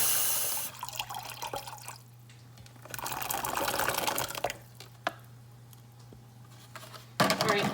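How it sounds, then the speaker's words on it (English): Cold tap water runs into a bowl in a home kitchen, a continuous hissing splash that shifts in pitch as the bowl fills, fairly close, with brief clatters. "So I'm just filling up my bowl with cold water."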